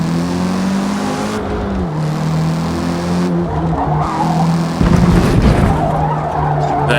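A race car in Forza Motorsport laps the Nürburgring, engine droning loud and close with pitch climbing and dropping through gear changes, then tires skid and squeal near the end.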